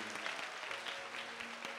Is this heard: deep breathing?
no